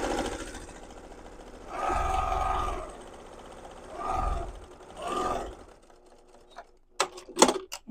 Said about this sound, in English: I like to go back and add a second row of stitching